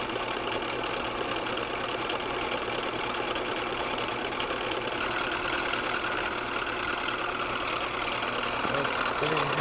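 Three-phase AC motor spinning at speed, a steady continuous mechanical whir and hum at even loudness throughout, with a faint voice underneath.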